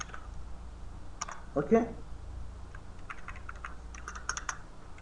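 Quick bursts of clicking keystrokes on a computer keyboard, faint and close, in short irregular clusters with a pause between, while someone says a word.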